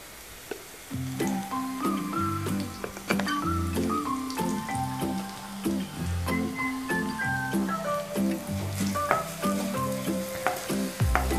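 Browned onions frying in oil with turmeric stirred in give a close, continuous crackling sizzle broken by scraping stirs, while a tonal melody plays quietly underneath.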